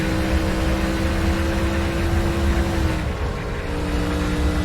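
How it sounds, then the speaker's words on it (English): Stock car engine in the NASCAR Racing 2003 video game during The Winston, a steady loud drone with harmonic engine tones that dip briefly as the throttle lifts slightly, then pick back up. "you hear him lift just a little bit, and he's playing with that throttle just a little bit to keep that car stable"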